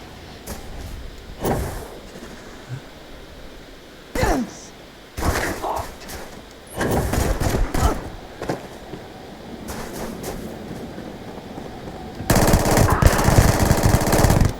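Kodama rifle hip-fired in the Starfield video game at a base: several bursts of rapid automatic gunfire, loud and close, with a long sustained burst at the end and quieter gaps between volleys.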